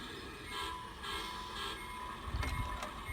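A garden railroad model train engine runs on outdoor track, a steady mechanical rumble and hum with rhythmic pulses and a few clacks near the end, heard close and alone.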